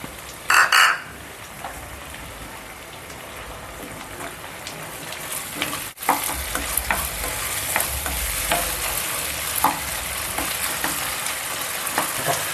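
Prawn curry with curry leaves and turmeric sizzles and fries in a pan, with stirring scrapes at close range and a brief louder clatter at the start.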